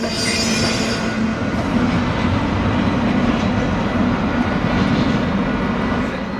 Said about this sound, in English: we're chasing trains in the dark.